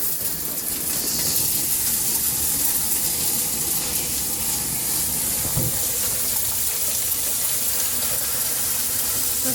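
Water gushes from a shower and hisses steadily as aquarium gravel for a 20-gallon fish tank is rinsed in a strainer, a constant close spray with faint clatter of stones underneath.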